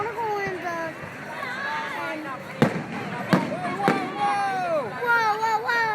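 Backyard fireworks going off, a few sharp booms and pops standing out among excited children's and adults' voices that talk and exclaim throughout.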